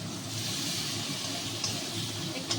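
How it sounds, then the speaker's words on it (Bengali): Water poured into a pan of spiced broccoli cooking with prawns, a steady hissing gush of liquid that runs throughout at moderate volume, with no talking. "জল দিয়ে নিলাম এবার সুন্দর করে মশলাটা করতে নেবো"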